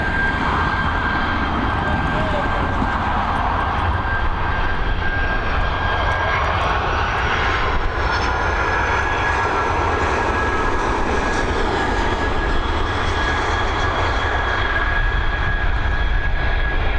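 A jet airliner arriving at Dublin Airport from Chicago roars loud and near, a dense continuous engine rumble with a steady high whine held across the whole pass.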